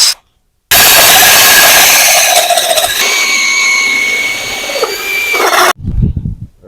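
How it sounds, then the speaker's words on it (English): A powered drill turning a hole saw into a wet log, a loud, close grinding whine that starts abruptly, holds with shifting pitch for about five seconds and then cuts off, leaving a few softer handling knocks. "So I might take some smaller hole saws and kind of score it in here into smaller pieces"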